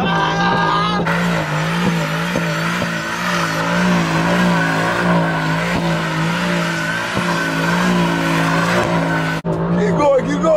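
Tires of a Mercedes-Benz AMG GT squeal and skid continuously while the car does doughnuts, a loud sustained screech with the engine droning underneath, briefly cut near the end.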